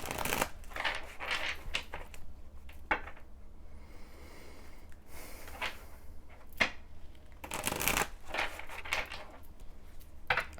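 Tarot cards are shuffled close to the microphone in repeated riffling bursts and soft slaps, with short pauses and quieter handling between the shuffles.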